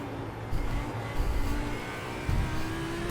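A race car engine in iRacing hums steadily and rises in pitch with brief surges, running at speed, with a slightly higher-pitched new engine note and no voices.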